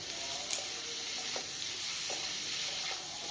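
Vegetables for Bengali shukto fry with salt in a pan and are stirred, giving a steady close sizzle with a sharp clatter near the start and faint scraping strokes.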